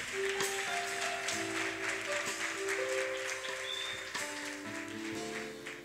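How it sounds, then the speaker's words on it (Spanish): Church congregation applauding during a Sunday service, steady dense clapping throughout with sustained organ or keyboard tones and some voices underneath. "Dele un aplauso a Dios."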